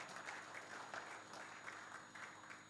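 Church congregation applauding together during a Sunday afternoon worship service, a steady wash of many hands clapping in a hall with rhythmic swells, fairly distant and sustained throughout.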